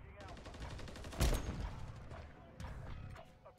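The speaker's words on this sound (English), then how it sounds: "that burst fire is starting to..." Rapid burst gunfire in GTA V roleplay, quick clattering volleys of shots with one heavier impact in the middle, fairly quiet overall.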